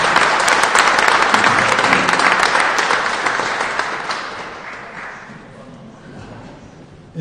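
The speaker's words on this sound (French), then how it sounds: "On applaudit Madame Faure et on applaudit Franck Raoult" Audience applause at a prize draw event, dense loud clapping from a crowd that gradually fades away toward the end.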